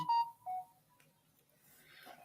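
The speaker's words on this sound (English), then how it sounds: "my phone just got a notification" A phone plays a notification: two short, clear electronic tones in quick succession, then near quiet with faint room noise.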